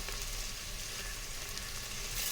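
Onions frying in a pan for nombu kanji, a constant, even sizzle heard close and steady throughout with faint stirring, no speech.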